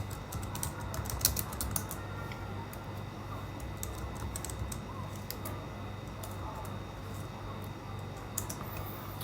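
Someone types on a computer keyboard, a quiet run of irregular light clicks and taps over a low background hum, with no talking.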